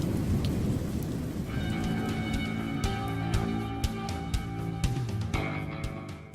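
A heavy thunderstorm pours rain in a dense steady roar, with rumbling thunder and sharp crackling strikes rolling through the whole stretch.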